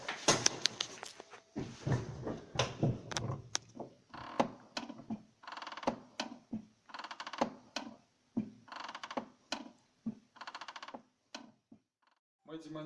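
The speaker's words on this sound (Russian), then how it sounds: "Есть проблема со скрипом педали сцепления." The clutch pedal of a 2007 VAZ-2112 with about 90,000 km squeaks and creaks over and over as it is pressed and released in a steady rhythm, close up and fairly loud.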